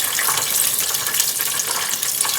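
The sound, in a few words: chicken deep frying in oil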